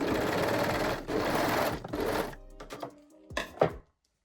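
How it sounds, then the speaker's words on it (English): A sewing machine runs steadily, stitching elastic onto a reversible bikini bottom, loud and close for about two seconds, then stops and gives way to a few scattered clicks and handling taps. "And again, I will cut and continue sewing."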